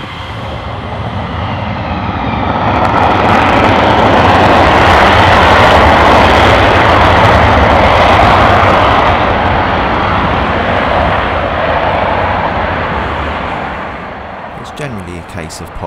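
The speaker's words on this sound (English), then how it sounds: "So we've got four F-15s airborne already." Several F-15 fighter jets take off at RAF Lakenheath military airbase, a loud, sustained broadband engine roar that swells over the first seconds, holds steady, then slowly fades as the aircraft climb away.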